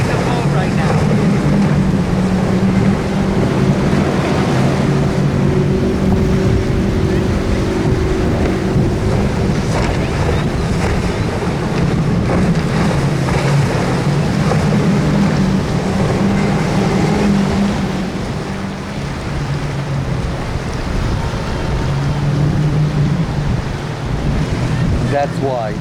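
Boat at sea off Haulover Inlet, with steady roaring wind and surf noise and an engine drone low underneath, loud and continuous, while people talk faintly under it.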